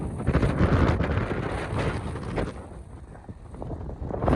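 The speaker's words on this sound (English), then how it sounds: "the wind is so strong that I suppose you can't hear me well" Strong gusts buffet the microphone at a windy antenna site, a heavy low rumbling roar that swells and eases in waves without pause.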